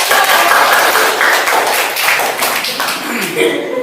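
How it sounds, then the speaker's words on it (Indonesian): A group claps and applauds for several seconds, a dense burst of hand claps with voices mixed in. "Tepuk tangan Bu, Mbak."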